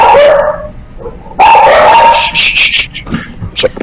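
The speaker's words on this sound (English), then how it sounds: "My dogs are going crazy" Several agitated dogs bark and yip loudly nearby in a dense, continuous burst with some whimpering, briefly dropping before a second loud flurry of barks that tapers off.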